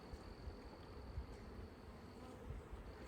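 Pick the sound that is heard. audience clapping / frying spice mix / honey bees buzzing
honey bees buzzing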